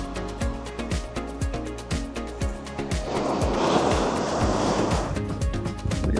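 Ocean waves break on the black-sand shore of Djúpalónssandur in Iceland, a broad wash of surf swelling midway, under a steady tapping rhythm that runs throughout.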